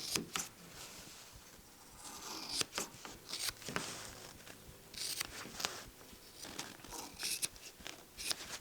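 Scissors snipping through polyfoam for a puppet build, a faint series of sharp irregular cuts and rustles spread over several seconds, quiet and close, with no voices.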